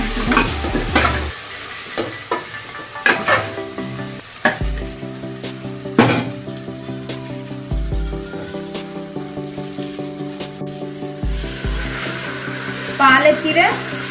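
Amaranth greens curry with chili powder is stirred and fried in a pan, with repeated scraping stirs and a soft sizzle over about fourteen seconds, plus occasional clanks of the utensil.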